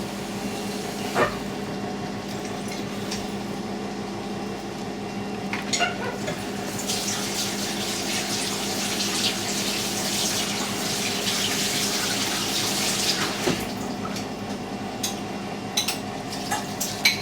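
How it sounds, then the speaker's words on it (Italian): Tap water runs steadily into a pot while a baked meat broth with penne rigate and smoked provola is being prepared, a continuous close splashing stream with a few clinks along the way. "voi dovete solo praticamente aggiungere acqua"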